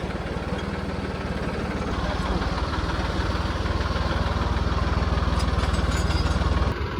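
A Massey tractor and a Swaraj tractor pull a fully loaded trolley carrying about 65 to 70 quintals on worn tyres, a steady loud diesel chug running throughout, rising slightly near the end before a brief drop.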